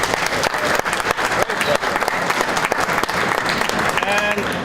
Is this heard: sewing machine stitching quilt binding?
no